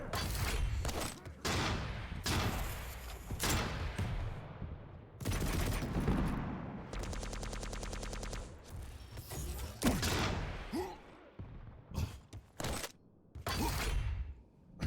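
Railgun shots crack out during a competitive video game match as a series of sharp, loud reports at irregular intervals, mixed with a buzzing mechanical hum and other game effects.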